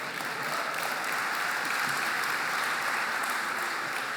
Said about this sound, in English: I've never received a round of applause for drinking water